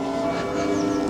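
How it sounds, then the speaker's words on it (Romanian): Real church bells ring at Lincoln Cathedral in a continuous, sustained peal of overlapping tones, heard from a moderate distance without any talking. "Se aud clopotele foarte frumos la catedrală"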